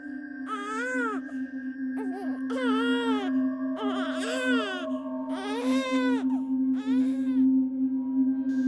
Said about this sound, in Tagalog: Isang iyak ng sanggol.